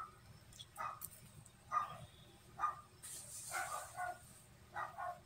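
Dogs bark repeatedly in short bursts, somewhat muffled and distant, with a brief rustling noise in the middle.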